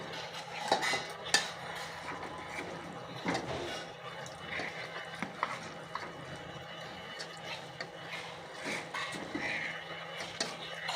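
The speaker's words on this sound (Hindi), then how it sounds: "अब हम इसको डिश आउट कर लेते हैं।" Metal utensils clink and scrape against a pot and serving dish while homemade Sindhi chicken is dished out, with scattered sharp knocks and scrapes over a low kitchen background.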